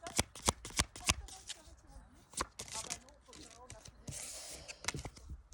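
Oracle cards shuffled by hand nearby, with bursts of crisp slapping riffles, a pause, then a softer hissing slide of cards, as someone speaks briefly in between.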